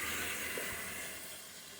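A cup of water poured into a hot spaghetti pot, giving a broad, steady steaming hiss that eases off slightly toward the end.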